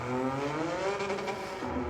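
Mitsubishi GTO twin turbo accelerating slowly in a racing game, its engine a loud, steady rising drone with layered harmonics that dips slightly near the end.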